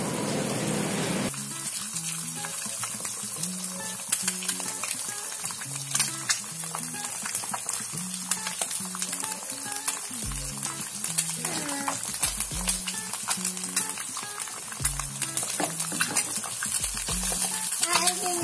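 An egg frying in a pan with salt, heard as a steady, close hiss and crackle that continues throughout, with faint clatter and soft knocks.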